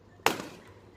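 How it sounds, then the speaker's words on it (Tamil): A single balloon pops: one sharp, close burst that decays quickly into quiet. "இப்போ ஐஸ்வர்யாவும் ஒரு பலூன் வெடிக்க போறா"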